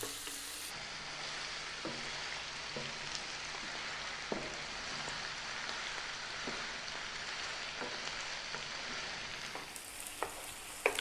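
Pieces of lamb sizzle steadily in a pan over medium-high heat for a lentil curry, a close, continuous fry broken by occasional scrapes and clicks of stirring.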